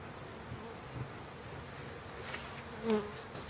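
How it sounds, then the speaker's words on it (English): Faint, steady buzzing of many bees flying in and out of a hive in late winter, a soft insect hum with occasional louder passes close by. "I saw some bees flying in and out of this hive"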